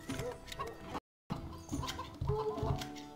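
Chickens cluck and squawk intermittently in the video game Stronghold 2 over a busy background of mechanical whirring, broken by a brief moment of total silence.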